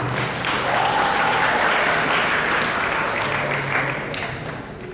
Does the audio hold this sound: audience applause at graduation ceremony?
yes